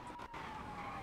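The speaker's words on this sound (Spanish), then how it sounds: "¿Se escucha la policía?" A police siren in a video game, a steady high wailing tone held over a dense background rumble of traffic and street noise, fairly faint and continuous with no talking.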